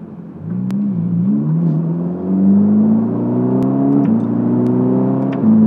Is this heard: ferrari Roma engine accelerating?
yes